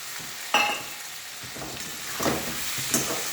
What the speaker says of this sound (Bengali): টমেটোটা দিয়ে আমি আরেকটু ভাজবো।